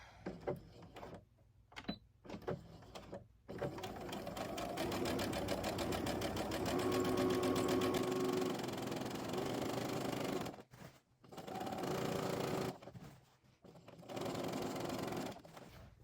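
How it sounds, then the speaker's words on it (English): A sewing machine sews a casing stitch on a garment being altered to add a zipper and pocket. It runs in long, steady, rapid whirring bursts with short pauses between them, close and loud, and no one speaks. "I'm just gonna go around now and make my casing stitch."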